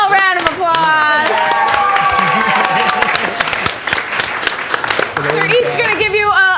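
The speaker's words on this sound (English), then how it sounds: "Give them all a round of applause." A loud crowd applauds three directors at a Saturday night show, steady clapping filling the room for several seconds while a host talks over it.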